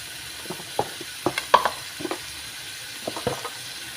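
Chicken skin sautés in a pan with ginger paste. A low sizzle runs under a series of close, intermittent scrapes and clinks of a utensil being stirred.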